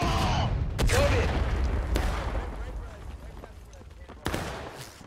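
A line of soldiers fires a musket volley in the War of Rights game, several sharp cracking shots bursting at once and echoing out, with scattered further reports following and voices shouting commands in the background.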